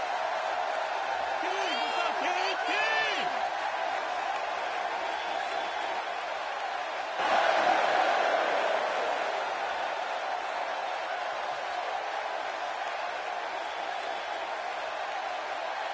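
Capacity crowd in a wrestling arena cheering and whooping, a steady loud roar throughout with a brief swell of shouting partway through, distant-sounding and continuous with no clear talk on top.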